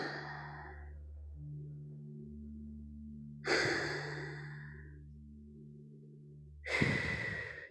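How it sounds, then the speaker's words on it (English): Three slow, deep breaths during a vinyasa flow yoga session, each a soft, close exhale spaced a few seconds apart over a quiet, sustained musical drone. "take 3 deep breaths into your belly"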